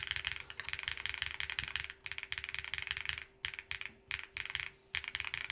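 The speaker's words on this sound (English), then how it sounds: "Let's see what this is going to sound like now. We're using the WS Pearl switches, GMK keycaps, all the foams." Mechanical keyboard fitted with WS Pearl switches, GMK keycaps and full foam dampening being typed on steadily, a close, dense run of crisp keystrokes broken by a few short pauses.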